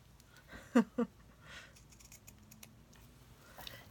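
Scissors trim with two quick, crisp snips close up, followed by faint rustling in a quiet room.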